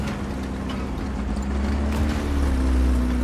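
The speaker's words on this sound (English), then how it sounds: "I can hear their vehicle, their engine." An enemy vehicle's engine in the War Thunder tank game drones steadily as a low, continuous hum with a faint rising tone, moderately loud amid rumbling noise, without talk.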